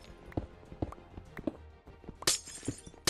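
Blocks being broken in Minecraft give quick, repeated crunching and cracking hits at an irregular pace, with a couple of brighter shattering bursts near the end, all fairly quiet.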